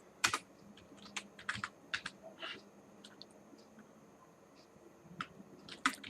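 Keys clatter on a computer keyboard in irregular bursts of close, crisp taps separated by short pauses, over a quiet room with no voices.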